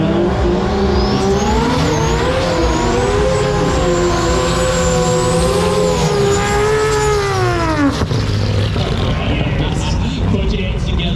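Loud, continuous engine roar with rising and falling revs from drag racing cars doing side-by-side burnouts, a sustained wail that drops off sharply near the end, followed by rumbling noise.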